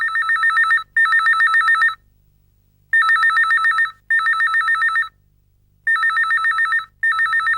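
A telephone rings loudly in repeated double bursts of a bright electronic trill, separated by short pauses.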